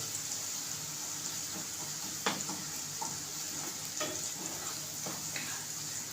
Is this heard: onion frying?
yes